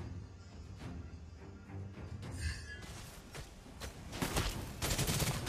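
Gunfire from the marksman hero Clint in the Mobile Legends mobile game comes in quick, sharp bursts. The shots grow louder and denser toward the end, mixed with in-game impact effects, and nobody speaks.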